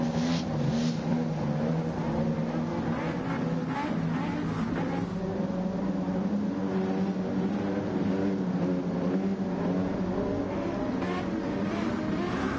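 A carbon Toyota Supra's engine drones and revs in Gran Turismo 7, a steady, sustained race-car roar with slight pitch shifts as the revs change, heard throughout at moderate volume.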